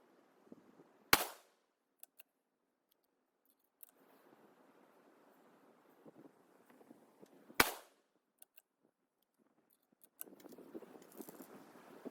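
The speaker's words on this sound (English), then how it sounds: "All right, and for our last group will be 46 grains. 5 more shots." Two sharp, loud rifle shots from a .243 Win firing 90-grain ELD-X handloads on a range, spaced several seconds apart, each with a brief echoing tail over quiet outdoor background and faint rustling.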